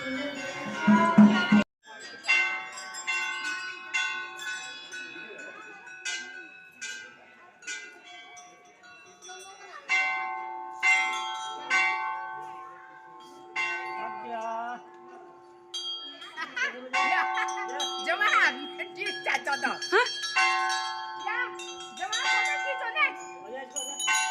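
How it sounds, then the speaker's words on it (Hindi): Many small metal bells offered by devotees ring and clink at a hillside Hindu temple, with sustained bright tones and repeated strikes throughout, while people talk nearby and children's voices drift in the background. "यहाँ बहुत सारी घंटियाँ चढ़ा रखी हैं श्रद्धालुओं ने।"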